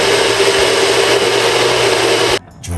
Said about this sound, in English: Where's my blender?